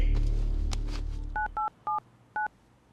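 A phone number being dialed: four short, evenly pitched keypad tones in quick succession after a fading low rumble, clear and close.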